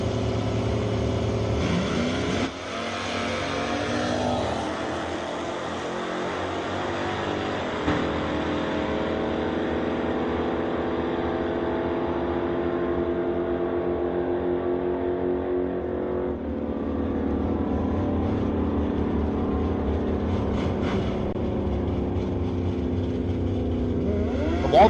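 A 1996 Camaro drag car launches and accelerates hard down the strip, its engine roaring loud and steady with rising revs and gear changes, continuous for the full run.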